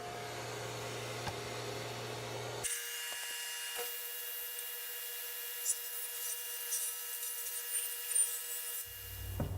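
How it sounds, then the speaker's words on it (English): A table saw cuts a bevel along the edge of a wooden furniture top, a steady high whining drone that stays loud and continuous for most of the stretch after a brief lower-pitched start. "just put this little bevel on with the table saw"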